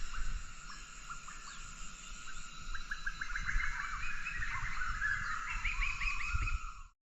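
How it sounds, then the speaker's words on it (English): Birds singing in a chorus of repeated chirps and trills in Lore Lindu National Park, Central Sulawesi, steady and moderately distant, over a low rumbling background, fading out at the end. "all we can hear is the birds singing away"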